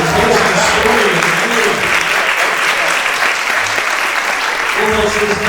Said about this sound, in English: Nice big round of applause for the tasting story